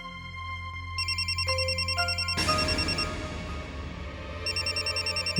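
A telephone rings with repeated electronic trills over a low background drone, the tones stopping partway and then resuming, loud and near with no voices.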